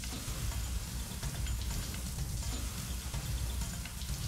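Water pours from a shower mixer tap as a steady, close hiss of spray drumming down, continuous and even throughout with no voices.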